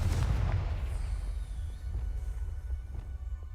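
A Confringo spell from Hogwarts Legacy bursts as a deep booming explosion at the start, then rolls off into a low rumbling tail with faint crackles; no speech.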